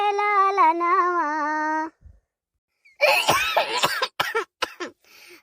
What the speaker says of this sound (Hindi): खांसी इतना तेज आवत है कि का बताई है।